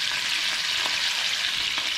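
BBQ ham sauce sizzles and bubbles in a pan as a constant, close, hissy frying noise, with a few soft stirring bumps and no talking.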